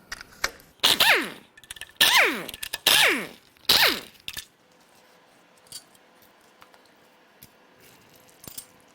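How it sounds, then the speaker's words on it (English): A ratchet wrench clicks loudly in several quick bursts while front cylinder head bolts come off a BMW N54 twin-turbo engine, followed by quieter faint mechanical handling and small taps. "there are some front head bolts that seal the cylinder head to the block. We're going to get those out of the way first."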